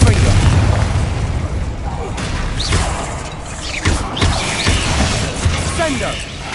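Booming blasts and bursts from the Confringo blasting curse in a Harry Potter video game, several loud explosive hits layered over continuous busy game noise and spell effects.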